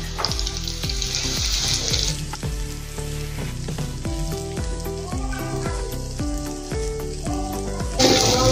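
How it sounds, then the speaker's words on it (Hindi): Dal ingredients half-frying in oil over a low gas flame, a continuous close sizzle with repeated clinks and knocks of a utensil against the pan, and a brief burst of watery hiss near the start and end. "गैस कम करके तलना है और इसको ज़्यादा नहीं तलना है, सिर्फ आधा तलना है"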